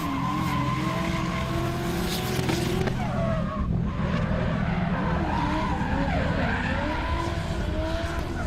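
A race car in a competition round at Val d'Argenton, launching in fourth gear, spins its tyres hard at the start with a loud continuous screech and roaring engine that sweeps in pitch, heard steadily throughout.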